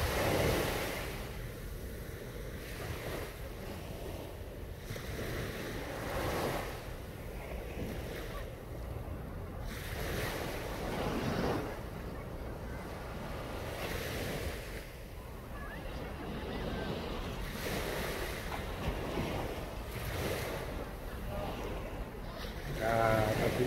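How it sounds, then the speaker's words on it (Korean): Ocean waves wash onto a sandy beach at night at Songjeong Beach, a steady, close surf roar with recurring swells and wind buffeting the microphone, and someone talks at times over it. "바다 소리 좋죠, 여러분들?"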